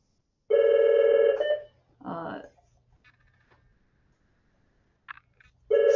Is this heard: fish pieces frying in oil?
no